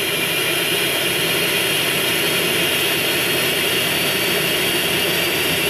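Steady, loud drone of a plane engine in Grand Theft Auto San Andreas, a continuous jet-like roar with no breaks or talk.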